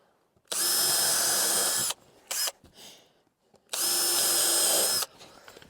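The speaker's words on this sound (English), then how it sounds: "I always like to put double screws on the ends, just so they don't flare out and come away from the joint." A power drill drives double screws into the end of a wooden joint in two long, steady whirring runs with a brief blip between, close and loud with no talk.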